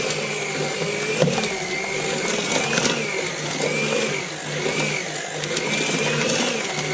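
A kitchen machine kneading stiff German bread dough runs with a loud, strained motor whine and a wavering drone that rises and dips, close and continuous with no voices.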